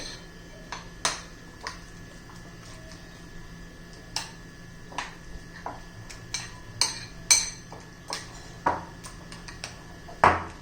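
Egg and onion pakora batter mixed in a bowl with a spoon, giving a string of sharp clinks and scrapes against the bowl at an uneven rhythm, close up over a faint steady hum.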